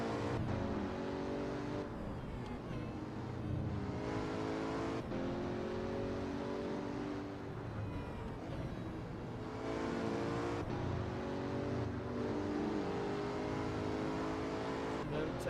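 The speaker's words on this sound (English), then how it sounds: "We're just taking a little test drive of this car anyway." A car engine on a test drive in a VR Japan street-driving game revs repeatedly, climbing through gear after gear in a steady, loud cycle of rising whines.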